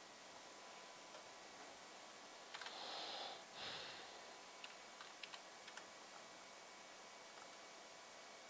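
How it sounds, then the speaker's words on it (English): A file name is typed on a computer keyboard in a lab, with short bursts of soft, quick keystrokes over a faint background hiss. "So we have to type in a name here."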